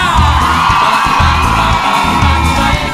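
A concert audience at a show shouts and whoops loudly and continuously, a dense crowd roar that stays close and strong over faint music beneath.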